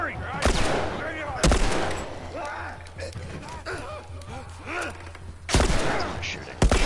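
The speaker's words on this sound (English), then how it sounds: "Shooting." Gunfire in The Last of Us rings out in loud, sharp bursts near the start, around the middle and again near the end, with players talking over the game sounds in between.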